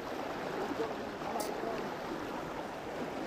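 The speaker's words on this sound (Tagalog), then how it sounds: "Lakas talaga ng agos ng tubig." Strong, fast-flowing flood water makes a continuous broadband rush, close and steady throughout, with faint voices in the background.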